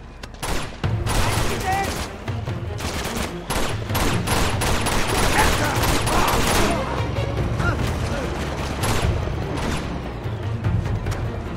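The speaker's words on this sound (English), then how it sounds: "that's what shot me in the back. The tank." Heavy gunfire in the video game Uncharted 2, with a tank firing on the player, dense rapid bursts and booming shots rattling almost continuously over a rumbling low drone, with speech mixed in.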